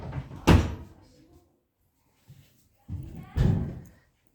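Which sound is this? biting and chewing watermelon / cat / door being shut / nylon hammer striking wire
door being shut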